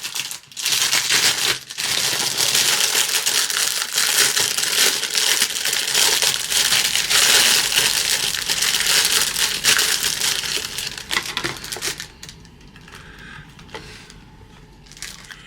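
Loud crinkling and crushing of a plastic bag being cut open on an old 1992-season Tamiya Tyrrell Honda model kit, rustling steadily close up before fading to quieter handling.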